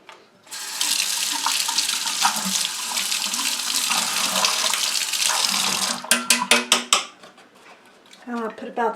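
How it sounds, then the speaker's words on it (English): Tap water pours steadily into a paint container for several seconds, then stops, followed by clinking of containers and a voice speaking briefly. "I'll put about the same amount of water in there."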